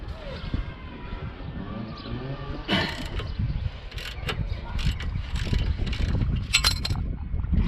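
Wrench work on the front right track rod end of a 2013 BMW F30 318d, with metallic ratcheting clicks and scraping in bursts at close range. Quiet background noise runs between the bursts.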